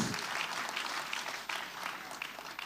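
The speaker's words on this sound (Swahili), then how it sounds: "Tumpige makofi for that." A church congregation applauds at a bishop's ordination service, a dense, steady wash of many hands clapping at once, fairly distant and sustained through the whole moment.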